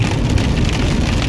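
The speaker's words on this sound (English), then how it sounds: "And that was hail, H-A-I-L." Hail from a storm drums hard on the roof of a camper van, a loud, dense, continuous patter of impacts with no voices.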